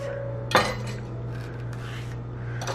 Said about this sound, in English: I'm just gonna cut this in half